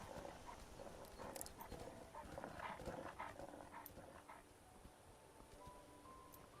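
Wolves in the Skyrim video game give faint dog-like panting and soft vocal bits over a steady game backdrop with scattered clip-clop-like footsteps, continuous and somewhat distant throughout.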